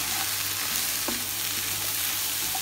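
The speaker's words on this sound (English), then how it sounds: "I'm just going to stir this around." Vegetables sizzle in a pan while being stirred around, a steady close hiss of frying with one faint scrape of a utensil partway through.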